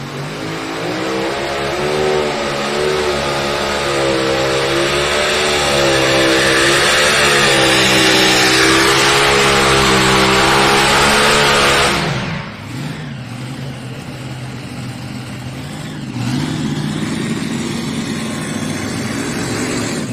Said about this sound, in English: like we saw with Bill Leischner's combination, 4 blown and injected Hemis